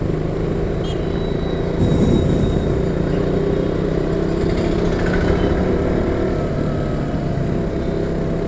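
A vehicle's engine rumbles loudly and steadily on a road in Arakkonam, Tamil Nadu, heard close throughout with a faint swell as it passes.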